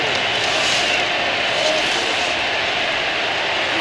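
Stadium crowd in the College Football 27 video game, a loud continuous roar of massed voices filling the space, steady and unbroken with no distinct cheers standing out.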